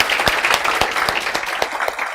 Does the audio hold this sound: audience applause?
yes